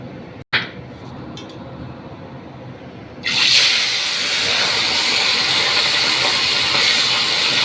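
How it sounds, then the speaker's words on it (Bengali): Mourala fish are dropped into hot oil in a kadai, a faint click giving way to a sudden loud burst of sizzling that settles into a steady, close frying hiss. "আস্তে মাছ ছেড়ে মাছ ভাজবো।"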